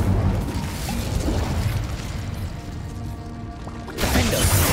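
Incendio fire spell cast in Hogwarts Legacy, a loud roaring whoosh of flame with booming, crackling bursts that ease briefly before surging again near the end.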